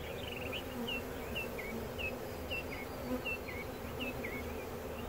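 A late-season honey bee swarm being rescued onto a frame of salvaged comb hums in a dense, continuous drone, close and steady, with individual bees whining past.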